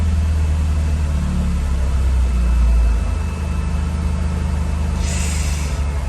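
A K20-powered Honda Integra Type R with a new throttle body, which has a faulty idle control valve, drones with a steady low engine note that holds and then drops as the throttle is eased off, with no talking.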